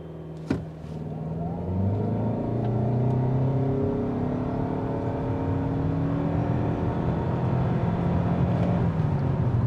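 A 2025 Toyota Camry XSE hybrid in sport mode launches from a standstill to 60 mph, its engine and electric whine rising steadily in pitch as it pulls hard. The sustained drone is heard from inside, with no talking.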